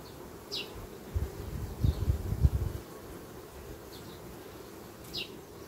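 A strong honeybee colony buzzing at an open hive during frame work, a low droning hum that swells into a louder close burst of wingbeats, then settles back to a steady background drone.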